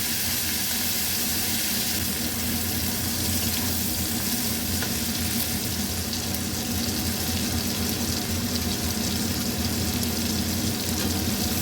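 Shrimp coated in salt and turmeric frying in oil in a pan, a steady, close, loud sizzle that runs unbroken the whole time with faint stirring.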